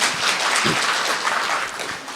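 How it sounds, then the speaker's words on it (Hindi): Audience applause at a spiritual talk, a steady broadband clatter of many hands sustained throughout, fairly loud and even, with no voices over it. "तो पहले तो एक बार फिर जोर से तालियां बजाए दीदी के लिए"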